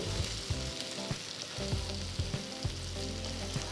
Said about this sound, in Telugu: ఒక ప్యాన్లో రెండు టేబుల్ స్పూన్ల నూనె వేసి నెమ్మదిగా చామదుంపల్ని వేసుకొని అన్ని సైడ్స్ బాగా ఈవెన్గా ఫ్రై అయ్యేట్టు చూసుకోవాలి